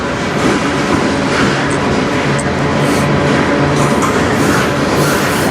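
A CN train rolls past at close range in Sarnia, Ontario, with a loud, unbroken rumble of wheels and cars that holds steady throughout.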